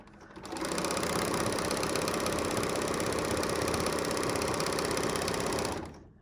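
A sewing machine runs continuously for several seconds chaining off a long thread tail after a rolled hem, a fast, even, close mechanical whir that starts and stops cleanly with no voices.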